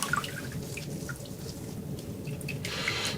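Water runs steadily over a Mikuni carburetor being rinsed, a continuous close splashing and trickling wash with small drips, no voices.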